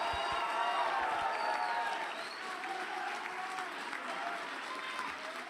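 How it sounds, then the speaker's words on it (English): Quiet, sustained applause from a seated audience at an Air Force ROTC change of command ceremony, heard from a distance with soft, even clapping throughout. "Round of applause."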